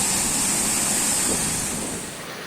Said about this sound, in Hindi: झरना एक ऊंचाई से सुंदर ढंग से नीचे गिरता है, जिससे नीचे एक प्राचीन तालाब बन जाता है